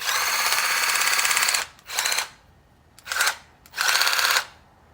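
Air impact tool hammering during steering shaft replacement on a John Deere HPX 4x4 Gator, its internal anvil rattling in loud close bursts: one long run, then three shorter bursts with pauses between.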